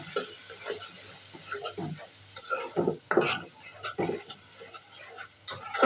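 A spatula scrapes and stirs spice paste of chili, turmeric, coriander and cumin in a pan for shrimp curry, with a soft sizzle under repeated close strokes.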